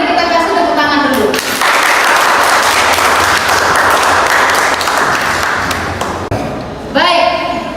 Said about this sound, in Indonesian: Mari kita kasih tepuk tangan dulu.